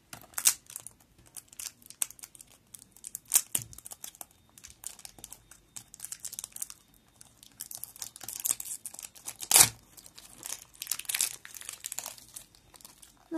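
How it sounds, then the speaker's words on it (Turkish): Crinkling and tearing of plastic packaging as a surprise toy box is opened, close and fairly quiet, with irregular rustles and a few sharper crackles, no talk. "Birinci kutumuzu açıyoruz."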